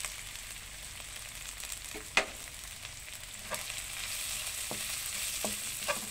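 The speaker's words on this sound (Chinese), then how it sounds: "把虾米也炒香" Chopped dried shrimp stir-fry in a wok with a quiet, continuous sizzle, broken by a few sharp scrapes and clicks of a spatula, with no voices.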